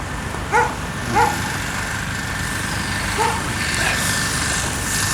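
A dog at a vehicle impound lot after a crash barks a few times at a moderate distance, the scattered barks standing over a steady engine-like rumble, with no talk.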